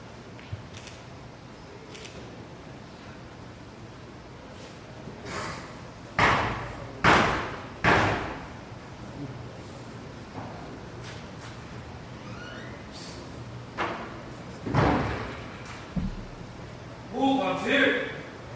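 Knocks on the door of a Masonic lodge during an installation ceremony, several loud separate thuds in spaced groups, heard in a reverberant hall with talk in the room.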